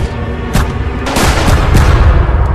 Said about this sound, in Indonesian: seluruh pihak polisi pun langsung melepaskan tembakan dan memberondong Tony